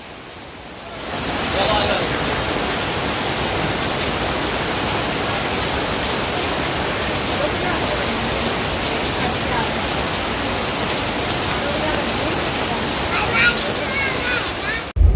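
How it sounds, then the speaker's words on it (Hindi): Heavy rain pours down outside a D-Mart store as a steady, loud, continuous wash of noise across the whole stretch, with a brief swell near the end. "इतनी तेज बारिश शुरू हो गई"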